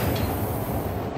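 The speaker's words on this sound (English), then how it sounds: "Is that trains?" Train noise in the video game Darq, a continuous low rumble and rattle of rolling railcars heard briefly and steadily, with no talking over it.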